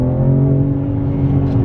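A 2021 BMW M4 Competition accelerates hard on kickdown, its engine producing a loud, sustained droning growl with steady harmonics and no pauses.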